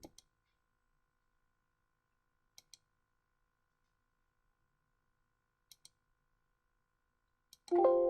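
Computer mouse clicking in a quiet room: three sharp double clicks spaced a few seconds apart, then a single click, followed by a brief tonal sound at the end.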